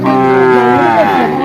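A buffalo at a livestock trading market gives one long, loud, close moo that holds steady and then slowly falls in pitch.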